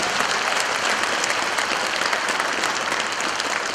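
A large audience at a residents' committee general meeting claps in sustained, dense applause, many hands together at steady loudness from start to finish.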